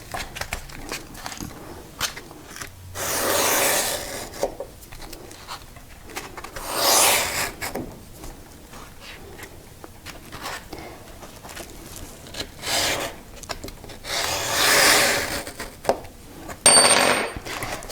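Sanding stick dragged across jewelry metal to score a line, giving four or five separate rasping bursts of scraping, each a second or two long, close and fairly loud, with quiet handling noise between.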